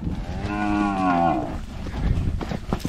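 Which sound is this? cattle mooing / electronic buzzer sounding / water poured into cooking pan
cattle mooing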